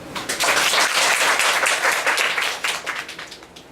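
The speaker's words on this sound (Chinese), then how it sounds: "请大家鼓掌" Audience applauding at a panel discussion event, a dense sustained burst of many hands clapping that stays loud throughout and starts to thin toward the end.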